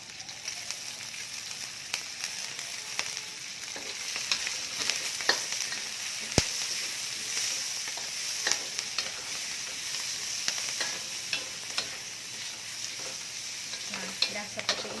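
Chinese chives (kucai) stir-fried with egg and shrimp in a pan: a steady, close sizzle with irregular crackles and scraping stirs, alone for fifteen seconds.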